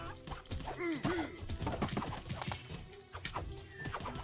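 Donkey-like braying and grunting enemy cries from the Rampage Knights co-op video game, over busy game effects and clattering, with players talking throughout.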